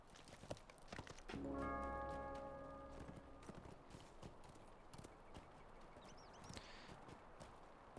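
Horse hooves clip-clopping in The Lord of the Rings Online while riding, a quiet string of hoof taps under faint ambient game sound, with a brief tonal chime early on.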